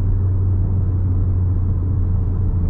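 Peugeot 2008 GT Line engine in sport mode, a steady low rumbling drone heard from inside the cabin, constant and unchanging throughout.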